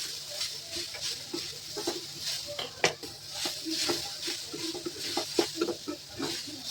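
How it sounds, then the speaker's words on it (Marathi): Grated coconut roasting and being stirred in a pan over medium heat, a steady soft hiss with a spoon scraping and tapping the pan in irregular, close strokes. "थोडंसं 2-3 मिनिटासाठी भाजून घ्यायचं."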